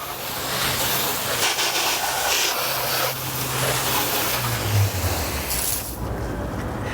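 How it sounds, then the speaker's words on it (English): Water sprays from a fire hose nozzle onto the engine bay of a BMW M3, a loud steady hissing rush with a low hum underneath that stays constant, briefly softening near the end. "Now we'll get the fan on. I'm going to hose off the engine bay."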